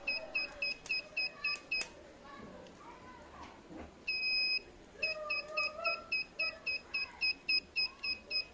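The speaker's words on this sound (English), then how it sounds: "Whenever there is fire, it will start buzzing and also vibrating." A fire alarm sensor buzzer in an IoT demonstration emits a fast series of repeated short electronic beeps, with one longer tone in between, fairly quiet amid room noise and a voice speaking.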